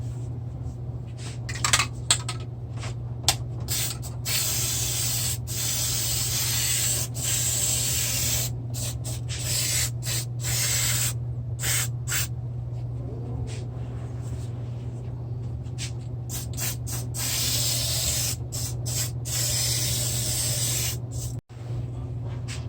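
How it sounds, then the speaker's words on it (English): Adhesive is sprayed around the leather edge of a Schwinn Phantom bicycle seat in long, steady hissing bursts broken by brief pauses, close up over a constant low hum. "Now we're going to spray this edge here all the way around"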